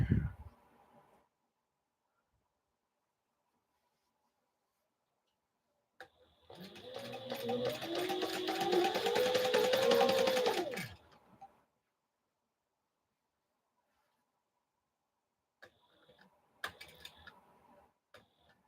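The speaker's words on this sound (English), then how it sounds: "We're gonna sew right on this dotted line, and then go from there." Sewing machine stitching together large panels for a 35 by 14 foot curtain, one burst of rapid mechanical whirring and ticking lasting about five seconds, with quiet gaps and a few faint clicks around it.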